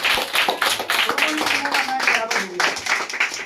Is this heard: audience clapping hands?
yes